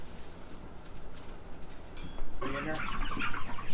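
Turkeys on a farm on a rainy day: a quiet, distant stretch of soft farmyard noise gives way to a louder burst of overlapping gobbling and clucking from the flock.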